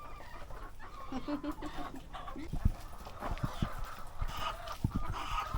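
Backyard chickens cluck softly and intermittently at a moderate distance, with scattered scratching and knocking sounds in a quiet rural yard.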